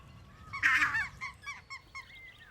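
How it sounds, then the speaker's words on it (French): Lesser white-fronted goose, the Lapland dwarf goose, gives a loud honking call followed by several shorter, fainter honks and squeaky notes, heard alone in the open. "l'oie naine, son oie fétiche, l'oie symbole de la Laponie"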